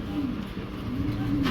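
A pigeon at a bird sale coos in low, soft rolling notes amid a muffled background hum, brief and moderately close.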